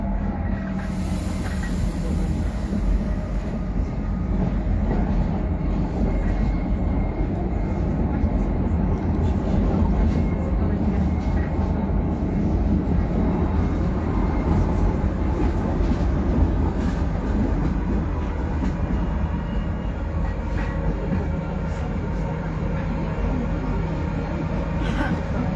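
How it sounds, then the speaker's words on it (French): A metro train rumbles steadily along the rails with a continuous loud roar, faint wheel squeals and rattling carriage noise throughout, heard from inside the car. "Je vais continuer ça dès que je descends du train, le métro."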